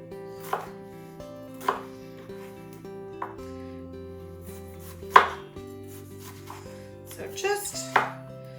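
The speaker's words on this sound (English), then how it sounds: "I'm going to cube up this cucumber" A knife cubing a cucumber on a cutting board, several distinct separated chops with a quick cluster near the end, against a low steady background hum; no talk.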